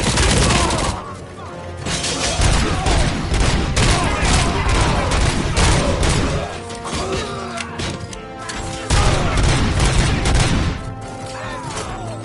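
Heavy gunfire in the shooter RoboCop: Rogue City, a near-continuous barrage of loud close shots and rattling bursts with impacts and crashes, running almost without pause, voices breaking in at times.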